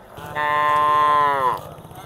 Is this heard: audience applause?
no